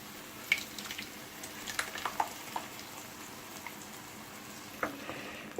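Tomato added to translucent onion frying in a pan for an eggplant meatball tajine, giving a soft, steady sizzle with scattered clicks and stirring scrapes, fairly quiet and with no talking.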